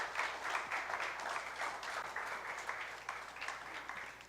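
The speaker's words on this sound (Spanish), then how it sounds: "Dale un aplauso al Señor si tú lo puedes creer." A church congregation applauds during a service, a steady wash of many hands clapping together at moderate distance for several seconds, with no speech on top.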